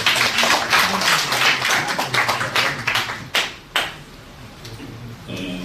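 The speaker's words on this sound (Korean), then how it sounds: "큰 박수로 맞이해 주시기 바랍니다." Audience applause at a graduation ceremony for an executive management course: dense, loud clapping that continues for about three and a half seconds, then thins into a few scattered claps and fades.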